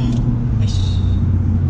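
A 770 hp Nissan GT-R R35 pulls hard in second gear, giving a loud, steady engine rumble heard from inside the car, with a brief higher whine on top and no talk.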